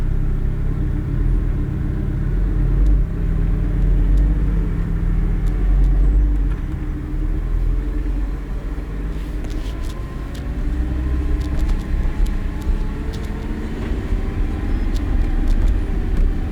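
A car pulls away in first gear on a road outing, its engine rumbling low and steady throughout, close and fairly loud, with faint road noise and no talk.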